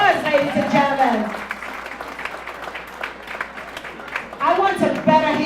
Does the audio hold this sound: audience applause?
yes